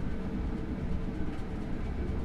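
Train running on rails, apparently going uphill, heard as a steady low rumble and rattle from inside with no break.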